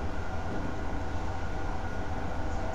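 A Metro North cab car train rumbles along steadily in Train Simulator, with a constant loud rolling drone and no talking.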